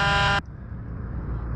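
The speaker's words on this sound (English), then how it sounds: "And your horn." A short, flat buzzing police car horn from the Roblox game Greenville blares for a fraction of a second and then cuts off sharply, leaving a low engine rumble behind.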